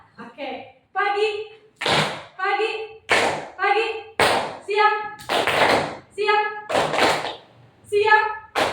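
Sharp hand claps come in short bursts, alternating with a child-like sung or chanted voice, loud and close in a steady repeating pattern.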